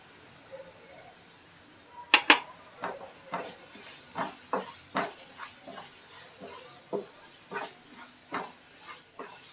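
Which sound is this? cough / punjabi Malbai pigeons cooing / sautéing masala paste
sautéing masala paste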